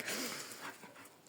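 Dogs barking and yipping somewhere in the distance, faint and scattered against a steady background hiss.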